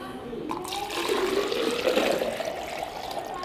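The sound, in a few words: water being poured back into a bottle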